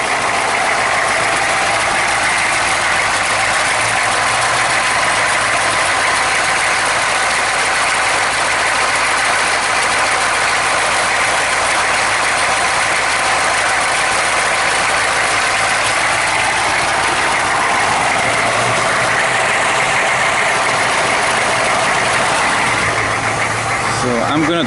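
A 5,000 watt generator runs with a steady, loud engine drone and broadband mechanical hum that holds constant throughout, with a voice talking over it.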